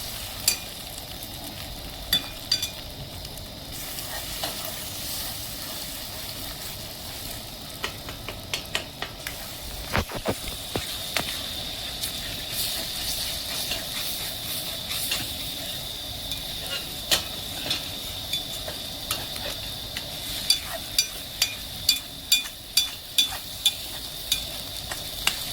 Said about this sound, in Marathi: आता त्यामध्ये आपण फोडून घेतलेली अंडी टाकत आहोत आणि छान आता परतून घ्यायचं.